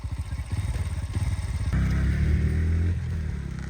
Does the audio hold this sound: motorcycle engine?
yes